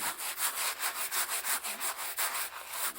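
A wood stove surface rubbed clean by hand with a steady back-and-forth scrubbing rhythm, about a dozen close, loud strokes in a row with no talking.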